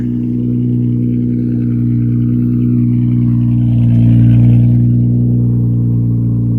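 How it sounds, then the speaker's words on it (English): A Nissan Z engine runs steadily close by with a loud, deep exhaust drone, swelling briefly partway through before settling back, with no talk over it. "Man, that exhaust, I really gotta do something about it."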